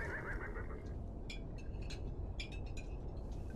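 A horse neighs in the video game Beyond: Two Souls, a loud whinny over a low ambient rumble, followed by a few sharp clinking sounds.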